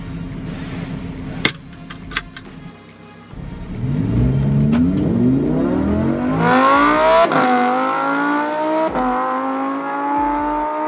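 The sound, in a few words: Lamborghini Huracan LP 610-4 rolling launch accelerating through gears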